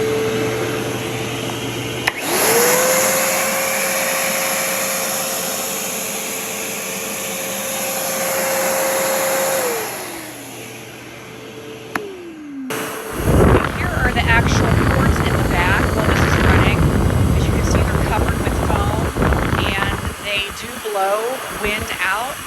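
A Stealth Sonic blower starts up and runs as a steady, fairly quiet whine, then winds down; a louder, broadband blowing rush follows with a person talking over it.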